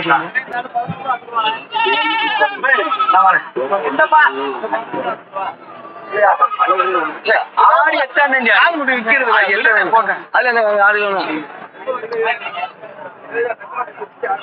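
Goats bleat repeatedly at a busy livestock market in Puthiyamputhur, their cries mixing with close, continuous talk from a man and a murmur of crowd chatter all around.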